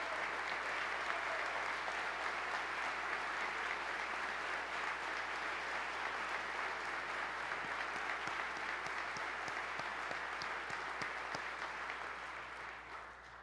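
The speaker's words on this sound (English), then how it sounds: "So let's give a round of applause for the Jacktown Vector team." An audience applauds a team after a speech: dense, even clapping that stays fairly distant and quiet, then tapers off near the end.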